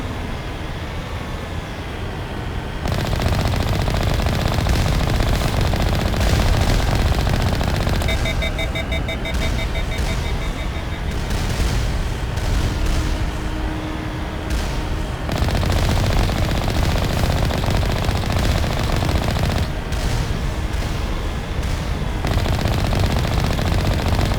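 Heavy turrets fire in the game Mass Effect, making loud, sustained rapid bursts of automatic gunfire that continue through most of the scene. The shooting is layered with rumbling game effects and breaks off briefly at a few points.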